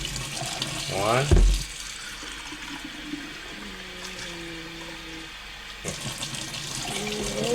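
Water from a tap pours into a pot of short grain rice in a kitchen, in a brief splashing burst and then again near the end. A person speaks quietly between the pours.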